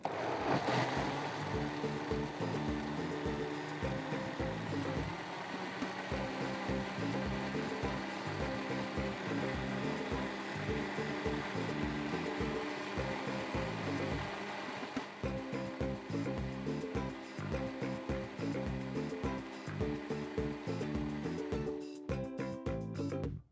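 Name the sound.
blender blending haleem ingredients into smooth paste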